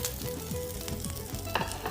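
Fish fries in a pan with a close, steady crackling sizzle and small popping bursts, and no voices are heard.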